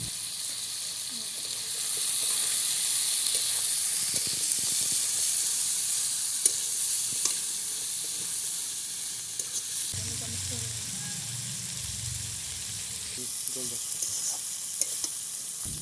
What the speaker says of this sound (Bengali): জিরা বাটা, হলুদ গুঁড়ো, নুন, লঙ্কা গুঁড়ো, কাঁচা লঙ্কা চেরা, সবগুলো এবারে ভালো করে নাড়বো।